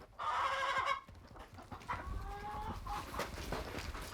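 Homestead hens in a deep-bedding coop give a loud burst of clucking, then softer intermittent clucks and short calls over a quiet background.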